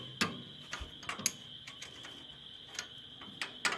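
Quiet, scattered metallic clicks and light taps come from a 14mm wrench working a bolt while a motor is mounted on a Cub Cadet 129. The ratcheting sounds are close, irregular and heard without talk.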